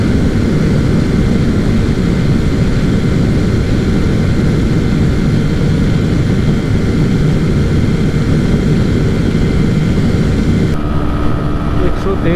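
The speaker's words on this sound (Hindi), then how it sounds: "भाई मेरी बाइक चल रही है 112 कंटिन्यू" TVS Raider 125 and Pulsar 125 motorcycles race flat out, a loud, constant roar of engines and rushing wind buffeting close by for the whole stretch, steady with no letup.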